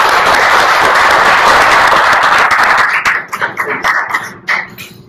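Meeting audience applauds loudly and steadily for about three seconds, then the clapping thins into scattered individual claps and taps before fading out.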